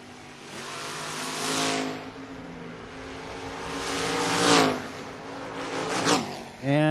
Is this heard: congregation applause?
no